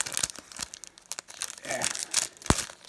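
Pokemon Sun and Moon booster pack foil wrapper being torn open by hand, a run of close crinkling and ripping bursts with one sharp tear near the end, no talk.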